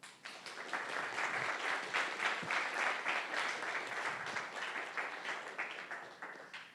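A lecture audience bursts into steady, warm applause, many hands clapping densely at an even level for several seconds before tapering off at the end.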